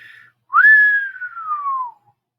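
A single clear whistle rises sharply and then glides slowly downward, loud and close, with a short soft tone just before it.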